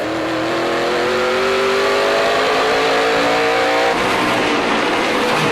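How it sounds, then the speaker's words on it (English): A loud race car engine at the 2010 Dickies 200 drones and slides downward in pitch as it brakes into a corner, locking up the left front tire, then roars on amid track noise, with a brief tire squeal. "locking up the left front going into the corner"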